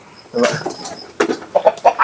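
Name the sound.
native chicken clucking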